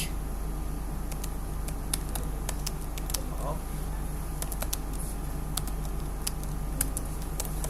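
Python code being typed on a computer keyboard, a scatter of crisp, irregular key clicks over a steady low hum, with no talking during the passage.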